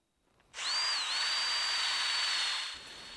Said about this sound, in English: we'll drill a 3/4 inch diameter hole there just a little ways in